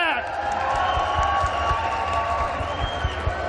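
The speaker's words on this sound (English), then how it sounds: "So if you could give them a warm round of applause" An audience at a gamescom 2022 studio stage applauds and cheers, dense clapping and crowd noise held steady and fairly loud throughout.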